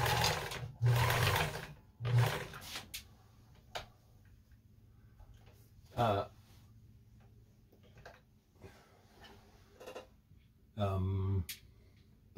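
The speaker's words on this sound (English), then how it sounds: "This is the widest stitch. And you can see now the needle is zigzagging." A Kenmore 158.14000 sewing machine runs a wide zigzag stitch in several short, loud bursts separated by quieter mechanical ticking. No one speaks over the machine.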